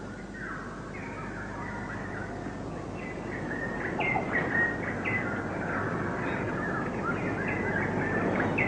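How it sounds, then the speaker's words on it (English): A saku bird calls with a series of thin chirps over a steady hiss of insects and outdoor ambience, faint at first and growing slightly louder. "The call of the saku bird, first on the left and then on the right"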